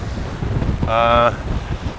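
Strong wind buffets a boat at sea off Hellevoetsluis, Holland, on a breezy March day, a steady rushing roar with a brief tonal whistle near the middle.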